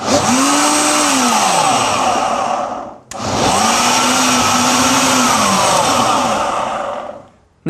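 A countertop blender roars loudly while blending a coconut green smoothie with Swiss chard, running steadily for about three seconds, cutting out briefly, then running again for several more seconds before stopping.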